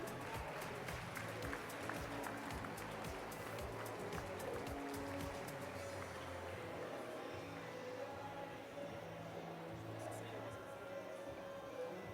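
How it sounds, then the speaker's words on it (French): Spectators at a Franches-Montagnes foal auction applaud a sale, a soft, distant patter of clapping that thins and fades away after about six seconds, with faint voices in the room. "Bravo, vous pouvez applaudir."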